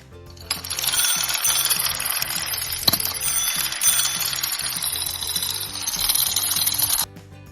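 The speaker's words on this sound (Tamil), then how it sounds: "இது ஒரு மிதிவண்டி சத்தம் கேளுங்கள்" A continuous metallic whirring and ticking, like a bicycle's chain and freewheel spinning, with a sharp clink partway through, fairly close.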